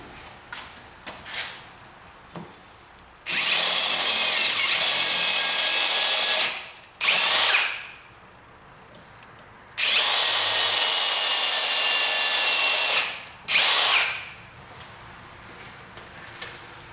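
A power drill whines loudly in two long bursts boring into a wooden bowl blank, each followed by a shorter spurt, with quiet knocks and handling noises in between.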